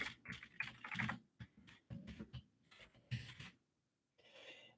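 Rapid typing on a computer keyboard in irregular bursts of close clicks, with a brief pause before a softer final stretch, heard alone without talk.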